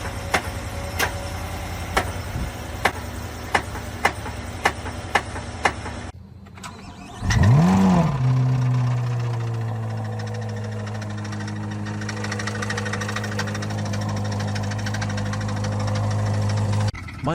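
A new car engine with a failure clicks rhythmically for a few seconds. It cranks and starts with a rising roar, then settles into a loud, steady, rough-running drone.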